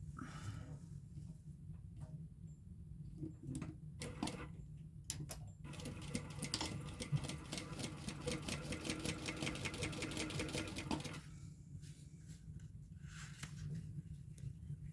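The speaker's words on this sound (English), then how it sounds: "so now we're gonna stitch this up" A sewing machine stitches a fabric baby sling in a steady, close run of rapid needle clatter lasting several seconds, with quieter start-stop bursts on either side and a low room hum underneath.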